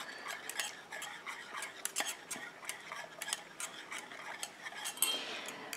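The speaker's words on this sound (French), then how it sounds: "je vais rajouter mon urée dans mon lait pour qu'il se mélange tout de suite" A utensil stirring urea into milk in a container while mixing a hand cream, giving faint, irregular light clinks and taps against the vessel, quiet and close.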